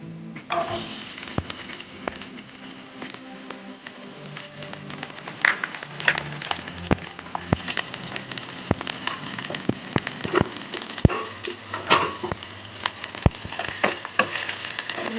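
Tempering spices crackle in hot oil for a varutharacha okra curry, a steady sizzling hiss scattered with many sharp, irregular pops and spatters, fairly close and without speech.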